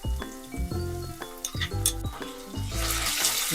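Ginger garlic paste frying in a pan with dry red chillies for a vegetable kofta curry, sizzling steadily up close while a spoon stirs and clinks against the pan, the hiss swelling louder toward the end.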